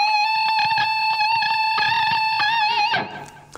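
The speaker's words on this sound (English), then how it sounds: "as you vibrato this note, it'll start to create this kind of crackling sort of sound" Distorted electric guitar, clashing sustained notes wavering with vibrato and a gritty crackle, loud and close, cutting off near the end.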